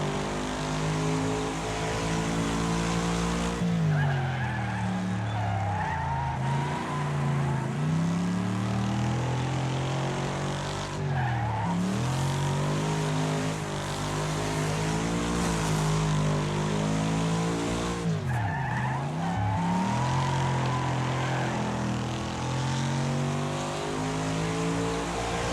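Video game car engine droning steadily throughout, with harmonic pitch rising and falling as the car accelerates and shifts, a few sharp sweeping dips suggesting braking or sliding; loud and continuous with no talk.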